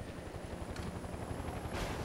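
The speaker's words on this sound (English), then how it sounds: "Oh man, this helicopter has so much more power than the UP." Helicopter in the Mercenaries 2 video game, a steady rotor and engine drone held close and loud throughout, with dense low-frequency thrumming and brief brighter bursts.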